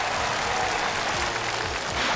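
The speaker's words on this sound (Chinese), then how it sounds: "我们再次把掌声送给冰涛和远志" A studio audience claps for a pair of puppet performers on a television show, a dense, steady burst of applause held at even loudness throughout, with no talking over it.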